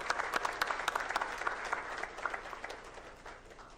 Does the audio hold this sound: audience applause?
yes